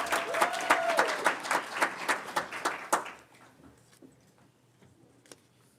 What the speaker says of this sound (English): Let's give Abigail a round of applause.